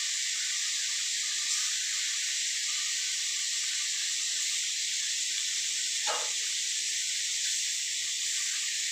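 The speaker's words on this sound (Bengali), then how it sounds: "সবকটি মাছ ভালো করে ভেজে নেব।" Rupchanda (pomfret) fish frying in hot oil gives a steady, close, bright sizzle that holds evenly throughout with no speech.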